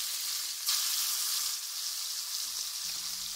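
Marinated garfish pieces fry in hot oil in a kadai, a loud, steady, close sizzling hiss with a brief surge as a piece goes in, no talk.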